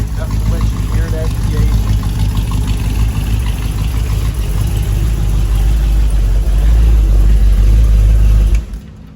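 A 1964 Chevrolet Impala SS with a 327 V8, small cam and a mild set of mufflers, idles with a steady low rumble that runs evenly close by for about eight seconds, then cuts off near the end.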